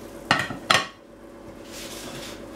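A large plate set down over a frying pan holding a Spanish potato tortilla gives two sharp ceramic-on-metal clinks close by, followed by faint kitchen rustling.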